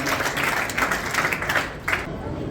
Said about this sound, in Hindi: बहुत जोरदार तालियां बजा देंगे हमारे सभी अतिथियों के लिए।